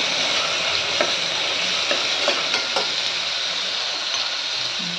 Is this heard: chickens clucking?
no